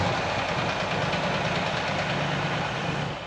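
A Ford Mustang Mach 1 engine idles roughly after being started, a steady, loud, close drone with a faint knocking pulse that runs continuously for a few seconds, with no voices over it.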